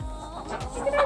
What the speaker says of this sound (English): Go see what our chickies are up to.